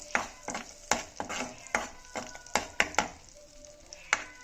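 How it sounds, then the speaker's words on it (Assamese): Butter heating in a pan for frying prawns, a faint soft sizzle under a string of sharp irregular taps and scrapes from a utensil stirring against the pan. "স্টাৰ্টিংত বাটাৰ দিয়ে মানে ভাজি লম"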